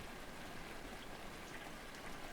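Rain falls steadily around a porch, a faint, dense patter of drops that carries on unbroken with no talking.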